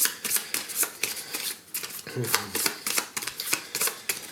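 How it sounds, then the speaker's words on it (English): Marvel United game cards being shuffled in a deck, giving a quick run of crisp, papery riffling bursts that repeat steadily through the whole stretch, close by and fairly loud. "So I shuffle the rest, I put this card on top"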